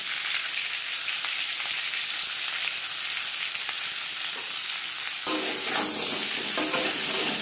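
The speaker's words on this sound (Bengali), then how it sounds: "লবণ হলুদ দিয়ে আলু হালকা করে ভেজে নেব" Potatoes fry in a pan with salt and turmeric, giving a steady close hiss of sizzling oil throughout that grows slightly louder and busier near the end, with no talking.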